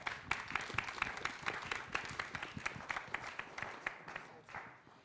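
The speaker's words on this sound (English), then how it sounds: "please join me in giving our speakers a very warm round of applause" Audience at a book launch applauds the speakers, with distinct, fairly close hand claps ringing out in a lively, uneven rhythm that thins and fades toward the end.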